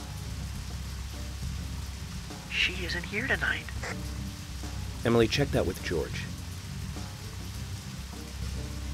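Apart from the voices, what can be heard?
rain falling in the video game Deadly Premonition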